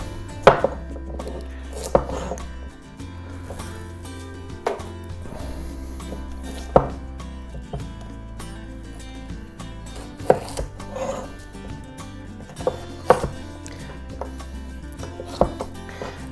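Kitchen knife chopping carrot into small pieces on a board for fried rice, sharp irregular knocks spaced a second or two apart over a low background hum, close and fairly quiet.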